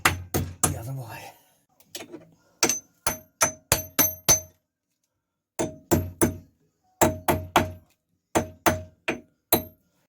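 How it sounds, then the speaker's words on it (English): Hammer tapping a lock washer against a ball joint nut on an MG Metro suspension, a run of sharp metallic clinks in quick groups of three to five, close and loud, separated by brief silences. "the lock washer tapped up there and then tapped down there to make sure that can definitely not come undone"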